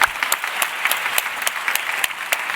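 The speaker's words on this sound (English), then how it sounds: "a round of applause for this first round of questions" Audience applause at a women's leadership luncheon panel, steady dense clapping from a sizable crowd with sharp individual claps standing out, sustained throughout without voices.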